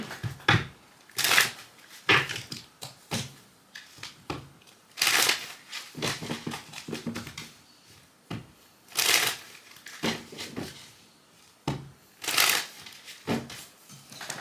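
Repeated bursts of tarot card shuffling, crisp riffling and flapping of a deck, close and fairly loud, with brief pauses between shuffles.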